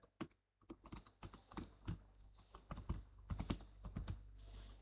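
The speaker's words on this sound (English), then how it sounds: "We will type here, press tab and then type grand opening." Keys on a computer keyboard are tapped in irregular bursts, including the heavier press of the tab key, fairly close but quiet, with brief gaps between words being entered in a Word document.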